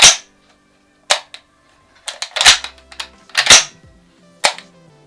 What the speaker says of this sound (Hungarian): nincsen benne sorozatlövés, tehát csak kizárólag egyes lövést tud a fegyverünk